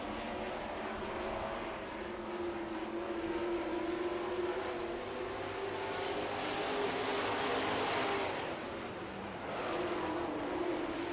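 Two Chevrolet super trucks racing side by side at full throttle down a back straightaway, a continuous loud engine roar that swells and fades slightly as they pass, heard from a distance without commentary.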